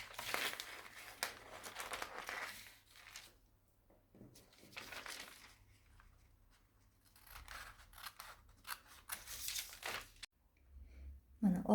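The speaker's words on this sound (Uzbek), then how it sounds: "Endi qirqib olsak bo'ladi buni ham." Scissors cut through a paper dress pattern in bursts of snipping and crinkling paper, close and moderately loud, with quiet pauses in between and a final rustle at the end.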